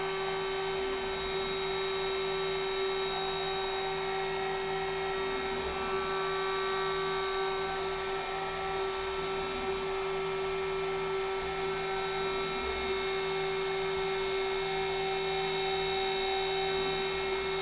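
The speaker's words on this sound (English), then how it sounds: "proceeding along with an engraving bit, engraving the size in millimeters" A CNC wood router runs an engraving bit, cutting millimeter size markings into a workpiece. The tone is a steady, high machine whine with a constant hum underneath. It stays even and fairly quiet for the whole stretch, with no voices.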